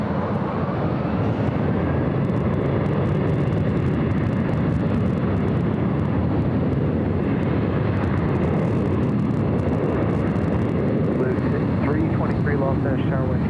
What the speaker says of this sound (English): Also the United 757-300 heading to Honolulu, flight 1431. I'm sure you can hear that aircraft heading on over.